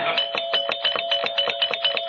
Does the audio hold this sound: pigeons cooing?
no